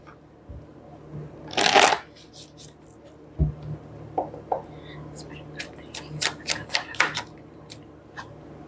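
Tarot cards shuffled by hand, a dense riffling burst early followed by scattered crisp card slaps and flicks, close and fairly quiet, with faint whispery sounds underneath.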